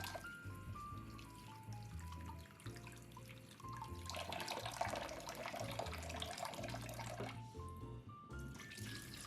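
Fonio grains swished and rinsed in a bowl of water, with splashing, sloshing and dripping that grows busier midway, heard alone under a steady low hum and some faint tones.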